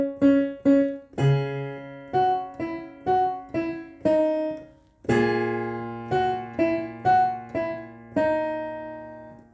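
A piano plays the chorus of a song, an easy arrangement in short, evenly spaced chords, each decaying before the next, close and alone with no voices.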